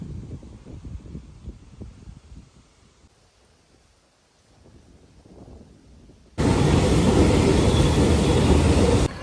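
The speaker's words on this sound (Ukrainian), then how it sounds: "Все, приїхав наш потяг." A train arrives at a small station in the Carpathian summer countryside. Quiet outdoor rustling and wind give way to a sudden, loud, steady rumbling roar that fills the last few seconds, with no talking.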